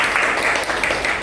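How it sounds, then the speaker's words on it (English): A 12th-grade economics class applauding a student, a brief steady patter of many hands clapping together, moderately loud and close. "Please give applause to Farid."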